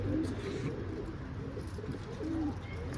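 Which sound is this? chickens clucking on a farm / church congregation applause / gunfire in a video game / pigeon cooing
pigeon cooing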